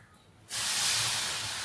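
Water sprinkled by hand onto hot salted peanuts roasting in a pan, bursting into a sudden loud, steady sizzling hiss after a quiet moment, close and alone.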